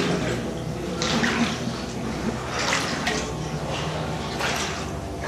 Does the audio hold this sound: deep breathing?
no